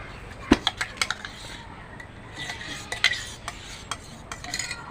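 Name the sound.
mutton being mixed by hand with sour yogurt in a bowl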